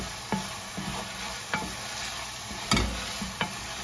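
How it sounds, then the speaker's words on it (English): Zucchini and garlic sauté in a non-stick or ceramic pan with a steady soft sizzle, while a utensil scrapes and stirs in several distinct strokes spread across the clip. "Stir it up. You gotta keep it moving, otherwise these will tend to stick"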